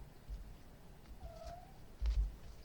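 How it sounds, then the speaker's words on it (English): A cat gives a single faint, drawn-out meow in the background, with soft thumps around it in a quiet room. "If you're hearing my cat in the background, sorry, she's a little wonky."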